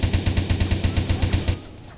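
Rapid automatic gunfire in the block-building shooter Blockstorm, a steady rhythm of about a dozen evenly spaced shots over a second and a half, then cut off.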